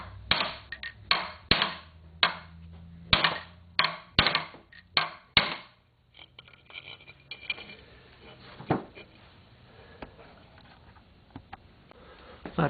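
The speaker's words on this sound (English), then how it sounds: "I'm just going to use it to push this bearing down on just a little bit." A length of chain-link fence top rail drives a steering bearing down on a Kawasaki KZ650 CSR: about eight sharp, close metallic knocks in quick, uneven succession, then quieter shuffling and a few lighter taps.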